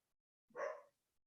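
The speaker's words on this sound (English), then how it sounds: "That is my dog." A dog gives a single short bark, clear but fairly quiet, in an otherwise silent indoor room.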